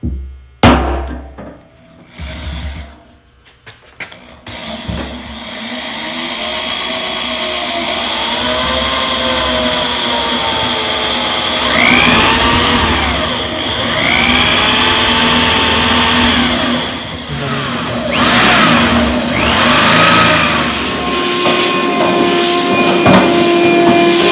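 Power drill boring holes into a fuel tank for an in-tank pump on a VW Bus with a Subaru engine swap, a loud continuous whine that rises and dips in pitch as the bit bites, close up with no speech.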